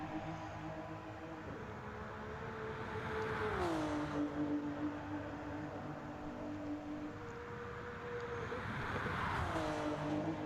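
Race car engine in Gran Turismo Sport pushed hard, a steady loud drone with two gear shifts or pitch drops, running continuously without talk.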